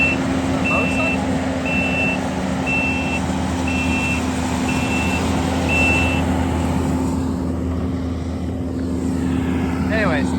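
Backup beepers on dump trucks reversing onto a pad while a dual slalom bike track is being built, sounding as a steady chain of about six evenly spaced high beeps over a constant rumbling engine drone.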